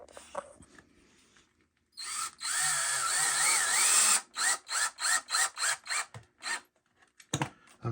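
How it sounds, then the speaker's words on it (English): A power drill drives screws into pocket holes in a 2x4 work table: one long whining run with rising and falling pitch, then a series of short, loud bursts in quick succession, close up. "So now I just have to glue it and screw it in."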